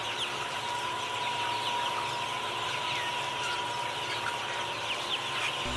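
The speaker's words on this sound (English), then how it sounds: "H for hen." A hen or other farm fowl clucks faintly against a steady, noisy outdoor background with a constant hum, with no distinct close calls standing out.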